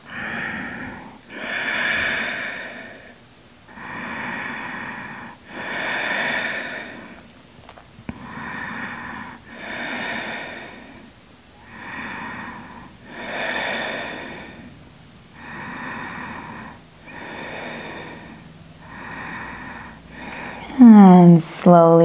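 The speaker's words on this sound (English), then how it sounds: "as you exhale, walk your hands forward, dropping your chin towards the knee and breathing through the nose" Yoga breathing through the nose during a forward stretch, a series of about ten slow, close nasal inhales and exhales in a steady rhythm, ending with a brief louder sound.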